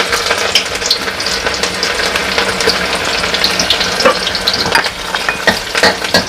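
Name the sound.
chopped garlic frying in oil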